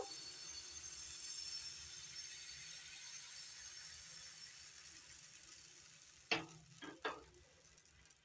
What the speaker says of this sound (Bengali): এখান থেকে এক ডাব্বু হাতার এক হাতা নিয়ে ফ্রাই প্যানের মধ্যে দিয়ে দিচ্ছি